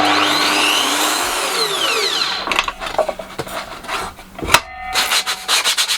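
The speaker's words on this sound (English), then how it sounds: "So if I drill a hole in just like a shelf or something like that" A drill boring a hole in a wooden shelf, a steady grinding drone at first, then broken into uneven bursts and scrapes as the bit cuts in.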